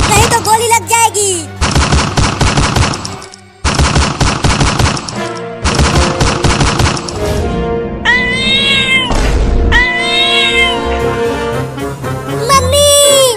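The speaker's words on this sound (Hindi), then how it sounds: "चिंटू, ये बिल्ली बंदूक कैसे चला रही है?" Cartoon gunfire from a cat shooting a gun: loud rapid bursts of shots in several volleys, followed by cat meows and caterwauling.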